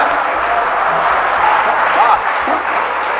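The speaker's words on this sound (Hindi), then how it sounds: "ताली बजाओ यार, इतने आदमी हो।" Steady crowd applause and clapping from a large audience at a Hindi comic poetry gathering (hasya kavi sammelan), filling the whole stretch at an even, dense level with voices murmuring underneath.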